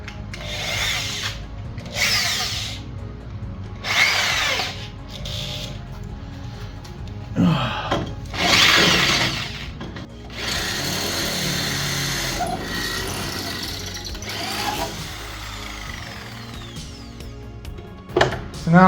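A corded power drill bores a hole down through a vehicle frame during a drive shaft and frame repair, in several loud bursts of whirring with short pauses between, close up and with no talk.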